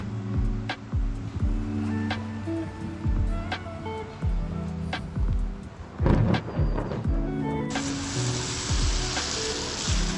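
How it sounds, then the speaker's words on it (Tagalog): Steady rain falling outdoors outside a hospital on a cold day, a continuous hiss with scattered thuds and clicks; the wash grows noticeably louder and brighter near the end. "umuulan. Tsaka malamig."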